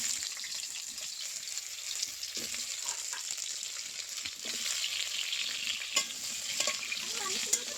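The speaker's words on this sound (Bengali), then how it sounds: "আলুটা আগে হালকা করে ভেজে নিই" Potatoes fry in a pan for a mutton curry, giving a faint, steady sizzle of hot oil with light stirring scrapes and clicks scattered throughout.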